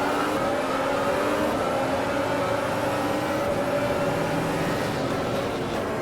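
A 2017 Formula 1 car in the Automobilista racing game holds a steady, high-pitched engine whine that stays loud and continuous throughout, with no talking.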